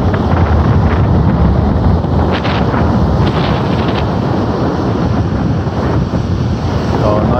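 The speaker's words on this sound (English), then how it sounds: "Fresh air filled windy day, as you can probably hear on the camera, on the video." Wind blows hard across the microphone at Milnerton Beach near Cape Town, a loud steady roar blended with surf, with no speech throughout.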